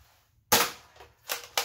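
A brass Nerf hand cannon pistol firing a dart gives a sharp, loud pop, followed by two shorter clacks a moment later, close by and with no voices.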